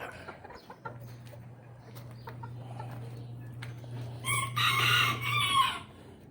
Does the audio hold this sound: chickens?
yes